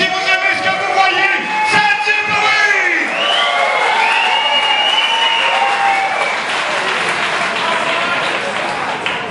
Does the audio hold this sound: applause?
yes